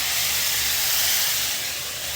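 A pinch of turmeric drops into hot oil and sets off a loud, continuous hiss of frying, close and steady, easing slightly toward the end.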